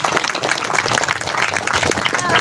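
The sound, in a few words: applause for Pak Faisal Basri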